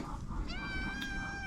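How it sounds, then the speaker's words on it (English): A cat on a homestead meows once, a clear, drawn-out, rising-then-falling cry heard fairly close over a quiet, faintly rumbling outdoor background. "We've got some cats."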